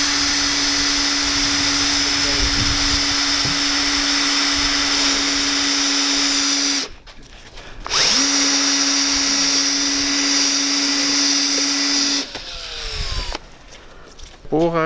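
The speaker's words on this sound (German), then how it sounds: "Bohrer gleichzeitig mit Versenker." A power drill with a countersink bit whines steadily at high speed, stopping briefly twice and starting again, loud and close, with a voice faintly heard near the end.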